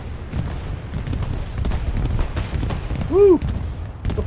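Bombing-run explosions from aircraft in the World War II shooter Hell Let Loose, heard as a dense rumble of distant blasts and gunfire that rolls on continuously, while a player shouts briefly over it.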